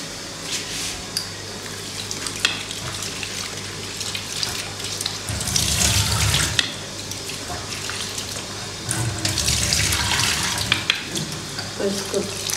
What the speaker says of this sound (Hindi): इस आलू को ना धोते हैं, थोड़ा सा धो लेते हैं